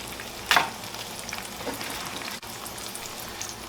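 Eggs frying in a pan for a bacon, egg, avocado and cheese breakfast sandwich, a soft steady sizzle with a brief louder crackle near the start, no talking.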